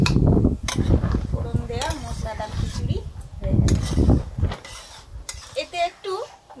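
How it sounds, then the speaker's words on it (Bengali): Spoon stirring fried cumin and garam masala into a pot of spiced khichuri, with scraping and clinking against the pot in uneven bursts, partly under a voice talking. "এবারে ভেজে রাখা জিরে আর গরম মশলা গুলো দিয়ে দিচ্ছি দিয়ে নেড়ে দেবো"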